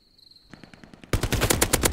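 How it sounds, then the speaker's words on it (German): Faint rapid gunfire builds in the video game Hell Let Loose, then a loud burst of automatic fire rattles in quick succession, close and sharp. "Oh, hier fliegen aber Schüsse durch die Gegend."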